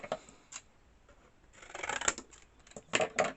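Scissors snip through medium-weight double-sided cardstock in several crisp, close cuts, a few short separate snips followed by a longer slicing run and two final quick cuts, with no talking.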